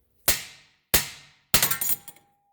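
Three hard metallic hammer blows on an outer tie rod end of a 2001 Subaru Outback, evenly spaced, the last one followed by a short rattle of bouncing impacts.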